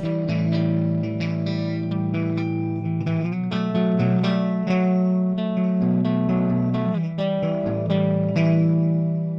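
Distorted electric guitar played through the Audio Assault Shibalba amp simulator with a distant microphone setting, sustained chords and picked notes ringing continuously at a steady, full level with no talk.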